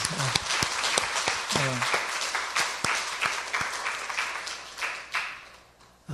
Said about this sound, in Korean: 우리 먼저 박수로다가 주님의 그 부활을 축하해도 괜찮겠죠?